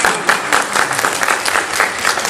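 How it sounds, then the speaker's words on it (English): Audience at a Hasbro Transformers convention panel at San Diego Comic-Con 2017 applauding loudly and steadily, dense close clapping throughout with faint crowd murmur. "I expect some applause on this next one."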